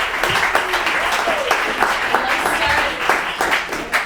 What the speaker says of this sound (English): please give them a big round of applause for being here today